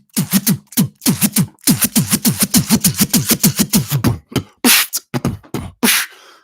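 A beatboxer vocally imitates a DJ scratching a kick drum, making a rapid series of short, punchy back-and-forth scratch bursts in quick rhythmic clusters, close and loud, with brief pauses between phrases.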